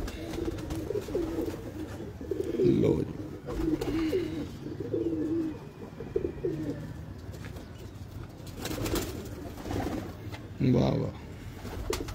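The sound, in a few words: highflyer pigeons cooing in loft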